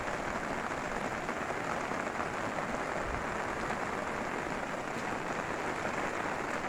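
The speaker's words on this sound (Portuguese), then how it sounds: "Muita chuva." Heavy rain pours down steadily, a dense, continuous hiss of drops hitting surfaces nearby with no pauses.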